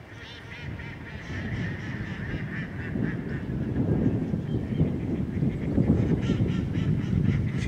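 A flock of mallard ducks on a lake quacking and honking together, a busy overlapping chorus at moderate distance that grows a little louder toward the end.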